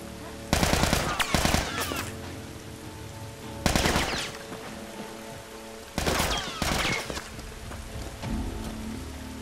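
Enemy machine gun fire in The Last of Us Remastered on hard difficulty: four loud rattling bursts of rapid shots, each lasting about a second, separated by short pauses filled with a low ambient hum.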